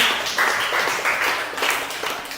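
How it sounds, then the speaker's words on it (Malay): Applause for a student named Hasani in a classroom lesson on funeral prayer, dense steady clapping from a group of pupils filling the room, loud and continuous without talk. "tepukan untuk Hasani"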